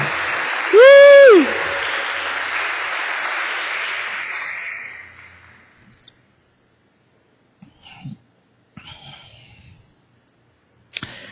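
Congregation applause at a church service, a broad wash of clapping fading over about five seconds, followed by near silence broken by a few faint knocks and rustles.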